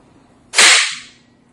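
Hydrogen gas ignites in a single sharp, loud bang that bursts out suddenly and decays over about half a second, close by, with no talking.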